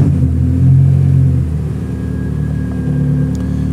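A Mazda 121 fitted with a K24 engine and individual throttle bodies starts up and settles into a loud, close, rumbling idle, with a slight rise in revs early on.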